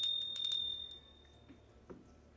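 A bright bell in the Vintage Story video game, rung several quick times at the start and then fading into a low background hum.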